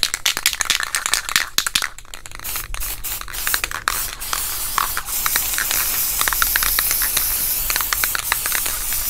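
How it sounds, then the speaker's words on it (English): Aerosol spray paint can misting a guide coat onto the body of a Box Chevy Caprice LS Brougham, heard up close as a run of short, sharp hissing bursts followed by steadier continuous spraying. "I'm gonna spray some spray paint this time because I gotta make a run."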